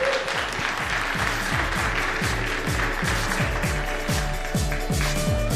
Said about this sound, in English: Can we get some applause for these guys?